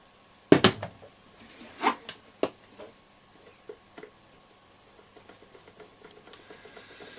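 Small plastic screws holding the handle of a Roberts R701 radio being tightened, giving a few sharp close clicks early on, then faint scattered ticks and light handling noises in an otherwise quiet room.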